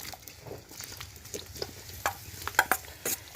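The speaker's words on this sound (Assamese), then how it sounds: "জলফাইখিনি অকণমান এনেকৈ ভাজি লওঁ" Gentle frying crackle of nutmeg in a pan of hot oil over very low heat, with soft stirring scrapes and a few sharper pops near the end, close and fairly quiet.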